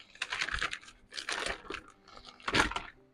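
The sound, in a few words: paper scissors cutting heat-sealed plastic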